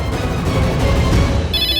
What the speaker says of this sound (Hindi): ये किसका फोन बज गया?